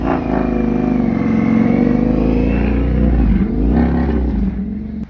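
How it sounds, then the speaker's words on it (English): A motorbike engine idles and revs close by, a loud steady rumble with rising and falling pitch as the throttle is blipped. "He pulled up right next to me and started revving his bike."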